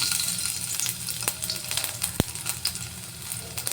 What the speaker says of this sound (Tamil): இஞ்சி போட்டுக்கலாம், பச்சை மிளகா, இவ்வளவும் நல்லா ஃப்ரை ஆகட்டும்.